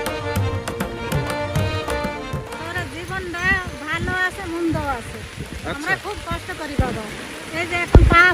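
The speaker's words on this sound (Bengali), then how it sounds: "হঠাৎ করেই নেমে এলো সৃষ্টিকর্তার রহমতের বৃষ্টি" Rain falling on a riverbank gives a steady patter and wash beneath several people talking loudly nearby, with a few knocks and thumps.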